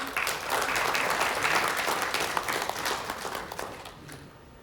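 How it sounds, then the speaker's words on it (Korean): An audience at a Jeju Forum provincial council session applauds a committee vice-chair, a crisp, dense round of clapping that stays loud for a few seconds and then tapers off. "우리 부위원장님께 큰 박수 부탁드립니다"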